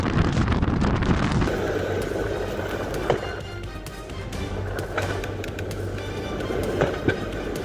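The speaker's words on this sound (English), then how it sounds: "A fallen tree in the storm triggered an electric fireworks display, sparks illuminating a Pittsburgh residential area." Electrical sparking and crackling from a storm-felled tree on power lines in a Pittsburgh residential street, irregular sharp pops and bursts over a steady windy rumble, fairly close, with no voices.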